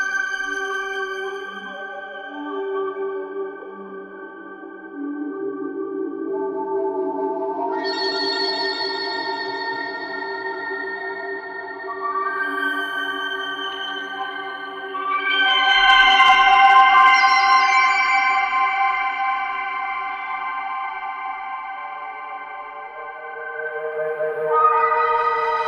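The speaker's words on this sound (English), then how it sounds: "This is a really tasty little reverb." Sustained synthesizer chords drenched in long, washy reverb from the Skulptur iOS app, notes blurring and ringing into each other as the pad slowly shifts pitch.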